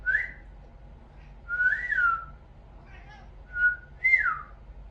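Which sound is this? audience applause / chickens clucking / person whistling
person whistling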